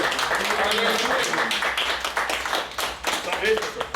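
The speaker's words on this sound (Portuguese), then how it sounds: "Pode aplaudir." Congregation applauding during a church service, a dense wash of clapping that fills the room, with voices mixed in over it.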